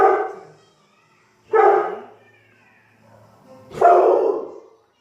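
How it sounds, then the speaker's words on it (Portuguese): A dog barks three times, loud and close, each bark separated by a second or more of quiet. "meu cachorro tá latindo"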